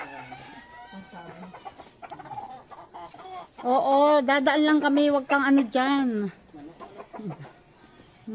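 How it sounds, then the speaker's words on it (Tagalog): Chickens cluck and a rooster crows in a rural yard, the crowing rising loud in the middle amid scattered clucks, with people chatting nearby before and after. "Ang dami manok, ang ganda ng manok."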